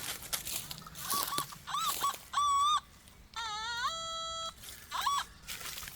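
Several electronic metal detector tones, warbling and rising in pitch, two sustained squeals mid-clip, against faint outdoor background noise.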